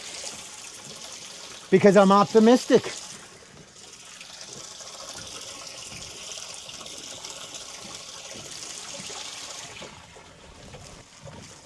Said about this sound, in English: Get some water in the live well